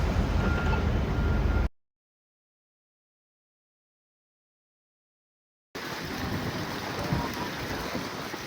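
Strong wind buffeting a microphone outdoors in Fort Lauderdale, a loud rumbling roar that cuts out completely for a few seconds and then returns just as heavy.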